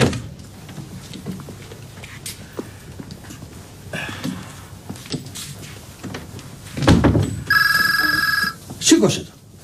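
A telephone rings in an office with a short electronic burst, following quiet room noise, door or cupboard sounds and people talking nearby.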